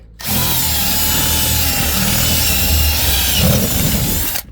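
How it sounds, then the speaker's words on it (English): A power drill whines loudly and continuously, drilling out aluminum rivets on an RV slide-out, with slight shifts in pitch and grinding. "We're gonna have to drill out all of these rivets right here."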